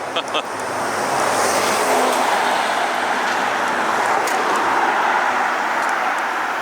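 A truck passes along a street at night in Shotton, North Wales, its broad engine and road roar swelling after a brief pause and holding steady and fairly close throughout.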